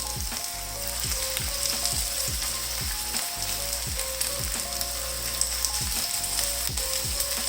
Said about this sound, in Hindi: और इसको दरमियानी आंच पे हमने फ्राई करना है।